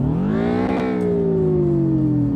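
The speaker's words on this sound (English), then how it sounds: "Oh, that's definitely how this car should sound." Subaru BRZ boxer engine in the drifting game DRIFT21 revving up, a steady harmonic engine tone with a sharp blip near the start, then settling into a sustained high rev.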